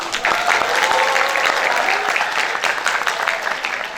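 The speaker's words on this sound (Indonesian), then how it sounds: "Tepuk tangan dulu." Audience applause at an Islamic school's Ramadan pesantren gathering, a dense, steady burst of many hands clapping that fills the room for the full four seconds, with faint voices underneath.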